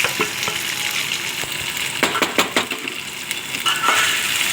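Finely chopped potatoes sizzle and fry in a pan for farali peanut khichdi, a steady close hiss broken by sharp clinks and scrapes of a spoon stirring against the metal.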